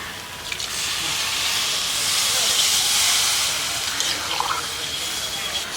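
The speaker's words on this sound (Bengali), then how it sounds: "এবার দিয়ে দিচ্ছি জল" Water is poured into chicken curry frying in a village kitchen, raising a loud, rushing hiss of steam that swells and then eases over several seconds, with a faint voice briefly in the background.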